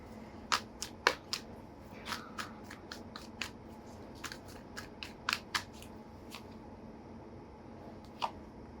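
Tarot cards shuffled in quick, crisp bursts of riffling snaps and soft flicks, close and fairly quiet, with pauses between handfuls and no talk.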